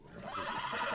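A horse whinnies in The Last of Us video game, a loud, close neigh rising and holding for about a second with no talk over it.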